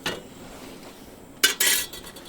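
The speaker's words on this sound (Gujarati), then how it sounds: "ગેસ ચાલુ કરીને તપેલો મૂકશે આગળ" A metal cooking pot set down on a gas stove aboard a boat, giving a couple of sharp, close metallic clanks and scrapes after a quiet stretch.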